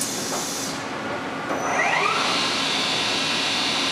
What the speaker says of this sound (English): Gear change.